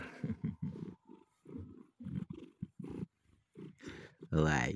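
A cat purrs and growls in low rumbling bursts, close by, with short pauses between them, ending in a louder rising yowl.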